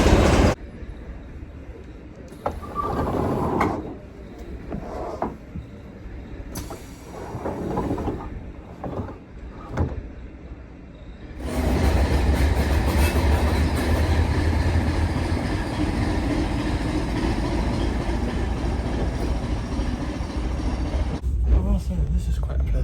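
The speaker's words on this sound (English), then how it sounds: "we're going to go back on this train, get a seat, and take it to Inch Abbey." A passenger train in Northern Ireland heading toward Inch Abbey, first idling with scattered onboard sounds and talk, then pulling away into a loud, steady rumble of wheels on rails that continues to the end.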